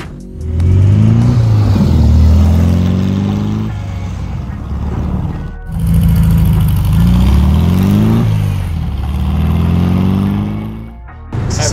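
Classic VW Beetle with a 1.6 twin-carb engine revving: loud, throaty rising and falling engine swells heard up close, with a brief drop near the middle and a sharp cut near the end.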